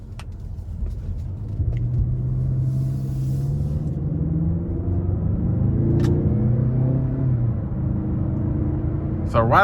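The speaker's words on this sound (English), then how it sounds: "we're gonna go ahead and take this Mazda 6 out on the road for a quick test drive." A 2021 Mazda 6 Carbon Edition with a turbo and paddle shifters drives on the road, its engine rumbling low and steady from inside the cabin, rising slightly in pitch midway as it pulls.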